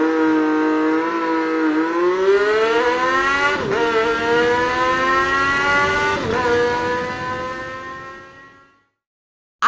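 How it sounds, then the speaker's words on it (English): A motorcycle engine pulls away fast as a sound effect, its loud rising revs climbing through a few quick gear changes before cutting off abruptly near the end. "He gets on his motorcycle and drive off quickly."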